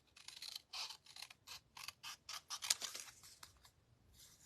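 Scissors snip through paper in a quick series of close, crisp cuts at a stamping craft table, about a dozen short strokes with brief pauses, quiet and alone.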